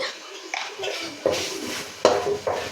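A spoon stirs tomato and turmeric in a cooking pan for a jackfruit seed curry, giving close scraping strokes against the metal with a soft sizzle underneath, repeated in an irregular rhythm.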